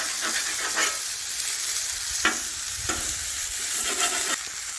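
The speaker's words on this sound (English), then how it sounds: "We'll go ahead and start giving our meat a flip" Fajita meat sizzles steadily on a flat griddle for a molcajete deluxe fajita dish, a constant loud hiss broken by a few sharp scraping bursts as it is stirred and turned.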